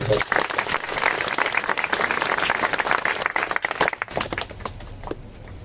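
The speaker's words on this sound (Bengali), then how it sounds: "আমাদের জনাব শামীম স্যারের প্রতি জোরে একটি করতালি" A crowd at a business training session applauds their leader, a burst of dense clapping that holds steady, then thins into scattered claps near the end.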